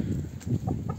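Chickens cluck nearby in a coop in short, soft bursts, several calls overlapping over about a second against a low background rumble.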